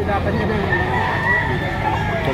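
Roosters crow at a gamefowl sale behind SM Lipa in Batangas, the drawn-out calls sounding close and loud over a steady background of people talking.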